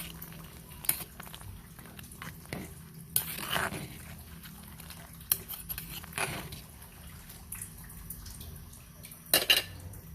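A utensil stirs sinigang mix in a simmering clay pot, giving soft scraping and clinking taps at irregular intervals over a faint bubbling background, with no talk.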